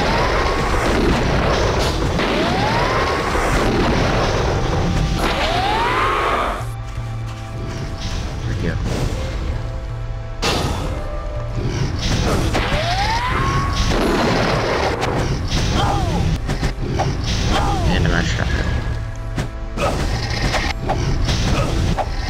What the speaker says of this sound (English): What do I have that's making little explosions?